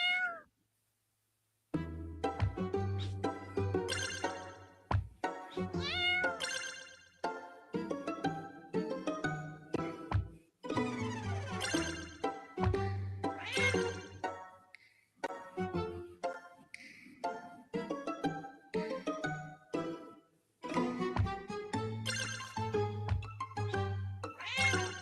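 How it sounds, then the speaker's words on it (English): Cats meow repeatedly in the video game Boop, a dense run of high, tonal mews and yowls overlapping one another, loud and close, with brief pauses between bursts and no talking. "Get a few more cats here."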